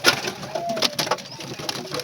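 Pigeons in a loft cooing in soft, throaty phrases over scattered rustling, wing flutters and small clicks, close by and fairly busy.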